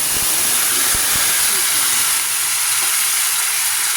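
Chicken adobo marinade sizzles loudly in a hot pan with ginger, onion and garlic, a steady dense hiss of frying with a few soft clinks near the start, continuous throughout.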